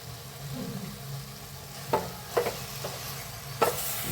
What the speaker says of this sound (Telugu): దీంట్లో నెయ్యి వేసుకోవాలండి